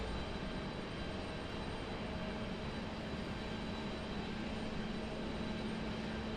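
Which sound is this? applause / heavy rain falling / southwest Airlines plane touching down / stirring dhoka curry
southwest Airlines plane touching down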